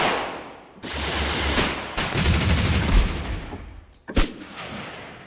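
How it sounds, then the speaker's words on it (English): Bursts of heavy cinematic gunfire sound effects from a sound library, rapid automatic volleys with deep booming impacts, loud and close, ending in a sharp final blast. "we need gunshots to go along with everything else this library has"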